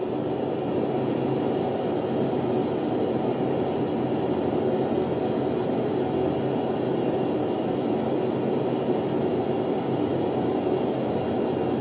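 F/A-18 Hornet jet climbing in the FSX flight simulator game: a steady, broadband engine roar with a constant whine, unchanging and fairly loud for the whole stretch, with no voices.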